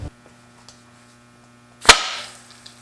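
A brake caliper piston pops out under a blast of compressed air during a caliper rebuild: one sharp, loud close bang with a brief hiss trailing off, over a steady low hum.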